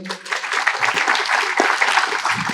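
Audience applause for a guest named Mas Pram at a Kenduri Cinta gathering, a dense steady wash of many hands clapping close and loud, with faint voices mixed underneath.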